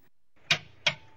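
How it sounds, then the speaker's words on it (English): Two sharp mechanical clicks about a third of a second apart from the high-voltage relay of a 2011 Toyota Prius hybrid, over a faint low hum in a quiet setting. "This is the operating sound of the high voltage relay."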